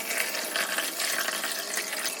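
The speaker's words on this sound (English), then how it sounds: "So this is cold water from the kettle, so it's not boiling." Cold water poured from a kettle onto lentils soaking in a bowl, a steady close splashing trickle of even loudness lasting a couple of seconds with no talking.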